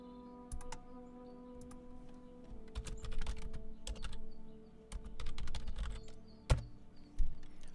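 Clicky computer keyboard typing as a weapon name is entered in the game PlaneShift, irregular bursts of close keystrokes with short pauses and a couple of heavier thumps near the end.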